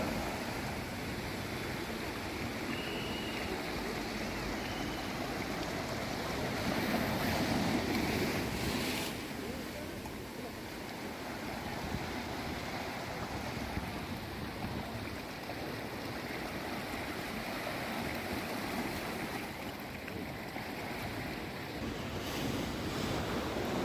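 Sea waves wash ashore at Bheemili beach in a continuous, moderately loud roar of surf, with wind buffeting the microphone and no voices.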